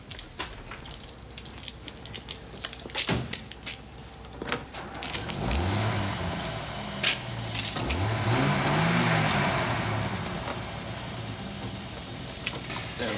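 A car engine starts and revs up, its pitch rising and falling as the car pulls away, with clicks and a brief whir of mechanism near the start and steady background noise throughout.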